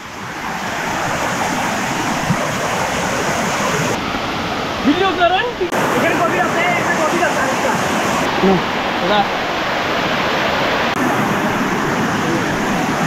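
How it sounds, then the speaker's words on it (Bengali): Napittachora Waterfall near Mirsorai, Sitakund, roars continuously and loudly nearby, its dense rushing wash steady throughout while a person speaks briefly over it. "তো ঝর্ণাটা এই পাশ থেকে খুবই সুন্দর।"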